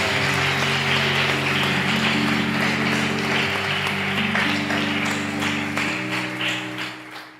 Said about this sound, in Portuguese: Posso dar uma salva de palmas para Jesus?